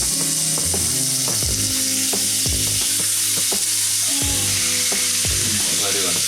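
Bacon sizzles and crackles loudly in a pan crowded with grease during carbonara preparation, a steady dense frying hiss with repeated scraping and clicking as the strips are moved about, up close.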